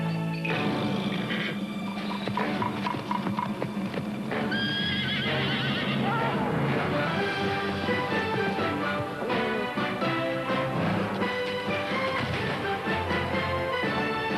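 A horse whinnies loudly over hoofbeats, with music and busy sound effects filling the background.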